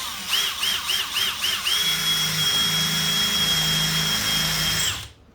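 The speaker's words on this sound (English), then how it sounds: "And we're just going to take our drill bit, and we'll go right here. Let's drill a hole." Drill bit boring a hole in a copper battery terminal, with a close, whining motor that revs in several short pulses and then runs in one sustained high whine under a low grinding bite before cutting off.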